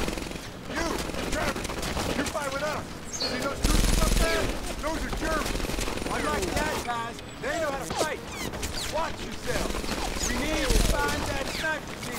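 Gunfire from a WWII shooter game, Medal of Honor, in a battle against German Afrika Korps infantry during Operation Husky: steady bursts of machine-gun and rifle fire with louder booms, under shouted voices throughout.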